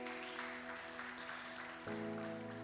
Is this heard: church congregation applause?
yes